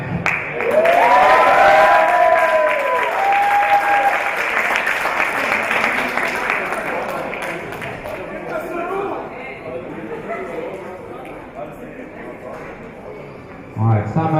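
Applause and cheering from the crowd at a powerlifting meet for the class winners, loud at first with voices whooping over the clapping, then gradually thinning out, with a brief thump near the end.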